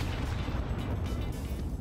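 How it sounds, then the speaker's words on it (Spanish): Grenade airstrike explosions in Counter-Strike 2 on the Anubis map, a dense dull rumble of blasts and booms packed close together, loud and continuous throughout. "los ataques aéreos han llegado a Counter-Strike 2"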